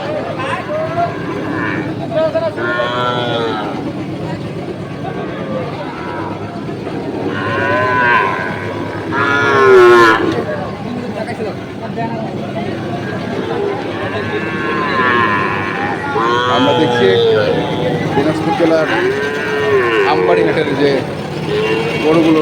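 Sahiwal bull calves at a busy rural livestock market, repeated loud moos rising over constant crowd chatter and bargaining voices.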